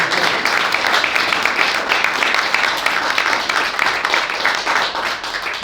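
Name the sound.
audience applause for young people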